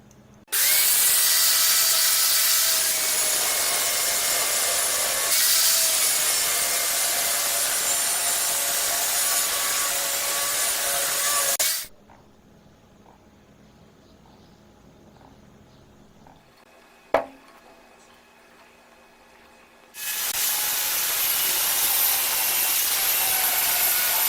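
A power tool grinds and chips away two sides of a universal motor armature taken from a mixer, a loud, steady, rough whine running about eleven seconds, then a near-silent pause with one sharp click before the grinding resumes.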